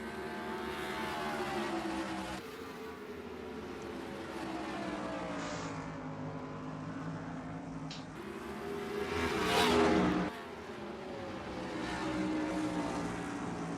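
Stock race cars lap the short Bristol oval in a continuous, loud engine roar, with rising and falling pitches as packs pass by and a brief surge in volume midway through.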